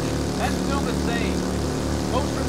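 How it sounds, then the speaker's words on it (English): A lawnmower engine drones steadily in the background for the whole stretch, a constant low hum with voices talking over it on a voice chat. "That's a lawnmower."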